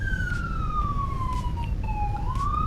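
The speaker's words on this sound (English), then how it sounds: "There's a lot of sirens today." A distant emergency siren wails outside, its single tone sliding slowly down and then back up over a constant background rush, with no voices.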